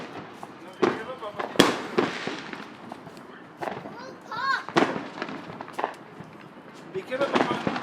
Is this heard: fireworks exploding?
yes